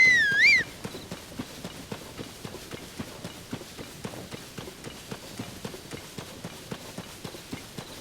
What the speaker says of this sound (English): I think our horse is coming